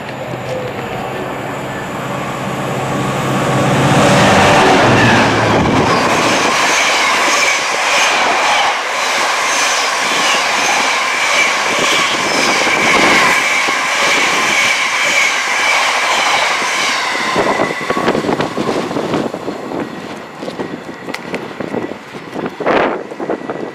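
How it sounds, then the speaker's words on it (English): A freight train rumbles past close by on the Midland Main Line, steady clatter of wagons on the rails lasting throughout, with wind buffeting the microphone and a few sharp clanks near the end. "gets interrupted by freight trains during blogging"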